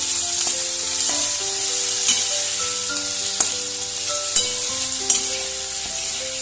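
Chopped tomato with salt, turmeric and sugar is stirred in a pan, with a soft sizzle and repeated spatula scrapes and taps at an uneven pace, close by and without talk.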